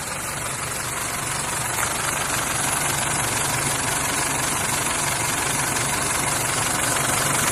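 A 2005 Isuzu D-Max SX with a 2.5 common rail diesel engine and manual transmission idles with a steady, even rumble and clatter that holds throughout, heard up close.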